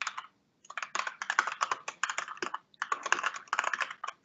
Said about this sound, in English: typing some answers